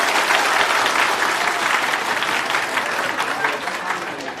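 Loud, dense applause from a crowd of Uttaradit residents welcoming the Pheu Thai Party leader at a branch opening, continuous clapping close up that eases slightly toward the end.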